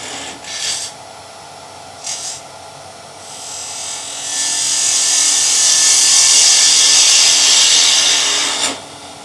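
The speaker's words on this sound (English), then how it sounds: "I'm going to use a 3/8 spindle gouge." A wood lathe turns a box lid while a 3/8 spindle gouge cuts, giving a steady rising hiss of wood shaving that starts after brief scraping touches and runs on loudly.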